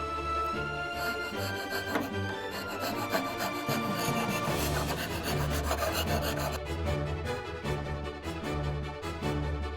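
A wooden wand being filed by hand during woodturning work, a continuous close rasping scrape in busy back-and-forth strokes with no speech.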